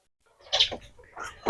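Desi laying hens give a few short, clucking calls close by, separated by brief quiet gaps.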